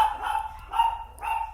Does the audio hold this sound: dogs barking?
yes